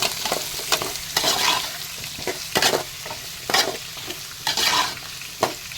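Onions, shallots and green chilies stirred while frying in a pan for mushroom roast, a steady sizzle broken by repeated scraping spoon strokes, close and fairly loud, with no talking.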